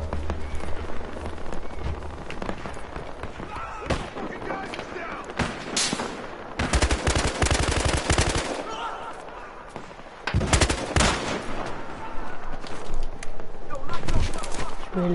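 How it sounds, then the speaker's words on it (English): Machine gun fire in a shooter game comes in loud, dense bursts and sustained volleys, with pauses between the strings of shots and a spoken voice running underneath at times. "I'm gonna go back to the machine gun now"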